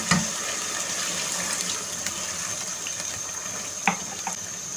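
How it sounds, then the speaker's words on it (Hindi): Water pours steadily into a cooking pot of potatoes with salt and cumin, a continuous splashing fill with a couple of soft clinks near the end. "अब इसमें मैंने पानी डालना है गलने के लिए।"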